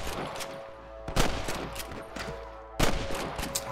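Gunfire in the Red Dead Redemption video game: two loud bursts of shots crack out about a second and a half apart, with scattered fainter pops and a steady game ambience between them.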